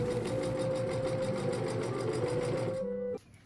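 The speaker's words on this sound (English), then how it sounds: "started sewing those together using a French seam" A sewing machine joins dress skirt panels with a French seam, whirring loud and steady with a fast even stitch rhythm before stopping abruptly near the end.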